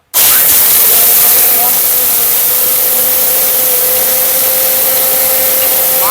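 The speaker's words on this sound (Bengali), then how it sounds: "এটা মহা শক্তিশালী ব্লেন্ডার" A Miyako blender switches on abruptly and runs at full power, a loud, steady high-pitched motor whine with a broad hissing roar that holds constant for about six seconds.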